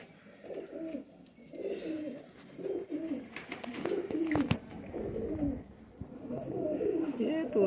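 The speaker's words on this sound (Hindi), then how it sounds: "बड़ा प्यारा कबूतर है" Soft, repeated coos from a high-flyer pigeon rise and fall in a steady rhythm, close by, while someone talks over them.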